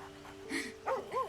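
A dog in Baldur's Gate 3 lets out a few short, close whining yips and barks in quick succession over a faint steady game hum.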